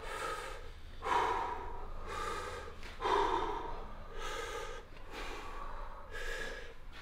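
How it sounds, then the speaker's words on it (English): Deep breathing during a fascial stretching exercise, with loud, close inhales and exhales repeating in a slow, steady rhythm, about six breaths with no talking. "Six breaths."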